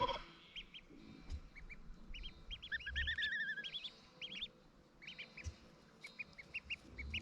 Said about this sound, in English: Little quacklings.